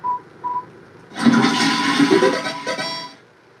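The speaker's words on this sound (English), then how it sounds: "You flush the toilet." A video-game toilet flush: a short electronic blip or two, then a loud rushing gush of water that swirls and drains over about two seconds before tapering off, heard alone without speech.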